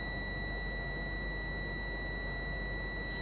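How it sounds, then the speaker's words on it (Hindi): A multimeter set to its continuity buzzer range sounds as its two probes touch, giving a steady, unbroken high-pitched tone over a hiss for the whole stretch, with no talking. "मल्टीमीटर को बजर रेंज पर सेट कर लिया, सेट करने के बाद दोनों प्रूफ को आपस में टच किया"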